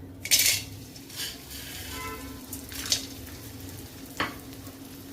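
Soft sizzling of edible gum resin (gond) frying in a pan with occasional scraping and stirring clinks of a utensil, quiet and close.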